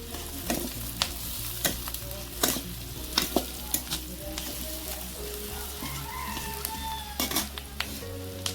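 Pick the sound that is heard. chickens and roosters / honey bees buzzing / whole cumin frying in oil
whole cumin frying in oil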